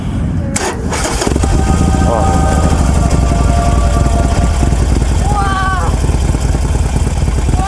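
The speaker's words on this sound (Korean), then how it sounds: "할리 시동도 걸어봤어?" A Harley-Davidson motorcycle engine fires up and settles into a loud, steady, rumbling idle close by, with people talking briefly over it.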